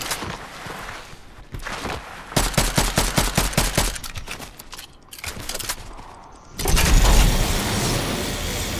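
Fortnite Chapter 5 Battle Royale gunfire: fast, loud bursts of automatic fire rattle in quick rhythm, pause, then a heavy, booming sniper-like shot rings out and lingers.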